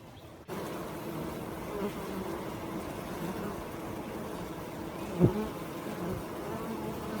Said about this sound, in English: I can see little guard bees up in the top.